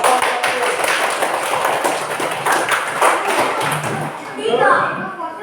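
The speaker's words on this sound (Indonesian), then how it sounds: "Tepuk tangan. Beri aplaus kepada jawaban" A classroom of students claps together in steady, dense applause for a correct answer, fairly loud and sustained, tapering off at the end.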